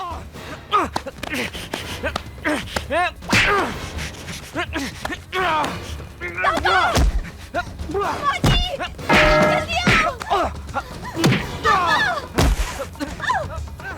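Blows land in a Hindi film fight scene: a series of heavy thuds and whacks at irregular intervals, mixed with shouting voices and background score throughout.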